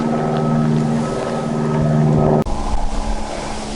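A joy-flight aircraft, helicopter or fixed wing, over Kings Canyon in Central Australia: a steady droning engine hum with a clear pitch that cuts off abruptly, then rougher rumbling.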